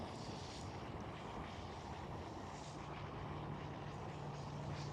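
A KLM airliner taxiing at Schiphol airport gives a steady, continuous jet engine rumble and whine at moderate distance, with a low hum running underneath throughout.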